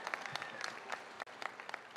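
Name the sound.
audience applause at commencement ceremony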